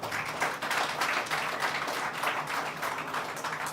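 An audience at a 25th anniversary award ceremony for the Guyana Lands and Surveys Commission claps steadily, a soft, even patter of many hands that sounds somewhat distant and continues throughout.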